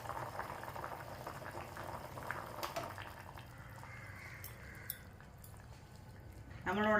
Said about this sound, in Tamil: இப்போ நல்லா கொதிச்சிருச்சு